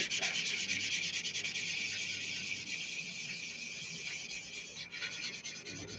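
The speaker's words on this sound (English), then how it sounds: "Let's come in with some curved sanding sticks now." Steady, close abrasive rubbing of curved sanding sticks on a scale model aircraft, a continuous scratchy hiss with a rapid back-and-forth texture, no talking.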